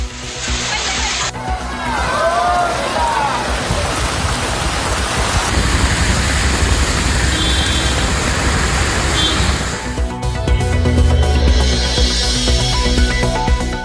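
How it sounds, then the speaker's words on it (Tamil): Heavy hail and rain pounding down in Dharmapuri, Tamil Nadu, a loud, dense, steady roar with brief changes in character as the scene cuts. "தருமபுரியில் இரண்டாவது நாளாக ஆலங்கட்டி மழை பெய்ததால் மக்கள் உற்சாகம்"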